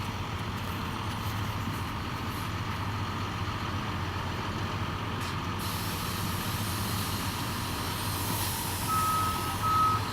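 A tow truck at a crash scene idles with a steady broadband engine and traffic rumble, and a few reversing beeps ring out clearly near the end.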